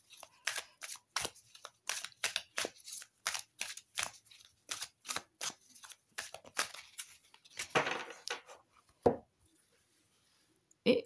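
An oracle card deck is shuffled by hand in a quick run of crisp, dry riffles and slaps, close and distinct, ending in a few isolated taps after a short pause.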